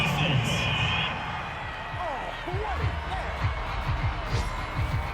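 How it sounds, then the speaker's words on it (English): A home crowd in the video game Madden football cheers and roars steadily at a distance, while a commentator talks over it and thumps and bounces punctuate the noise. "This home crowd, they're happy with that call."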